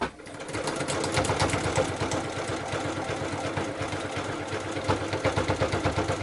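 A sewing machine back-stitches a linen zippered pouch with a fast, steady mechanical chatter. After a brief start it runs continuously, and the stitching rhythm pulses more unevenly near the end as the seam is reversed.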